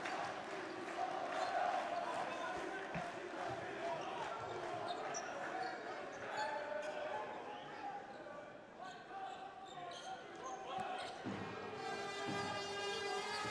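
Home crowd at a Basketball Champions League game between Besiktas Sompo Japan and Dinamo Sassari, standing and cheering in a steady, loud roar that fills the arena, with an announcer talking over it and a rhythmic burst of clapping near the end.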